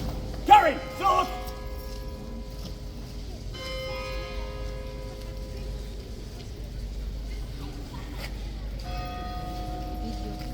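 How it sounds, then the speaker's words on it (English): A bell rings at Horse Guards in London during a Life Guards cloak inspection, sustained tolling tones lingering over outdoor ambience after a couple of brief louder sounds at the start. "Big Ben first, now the bell."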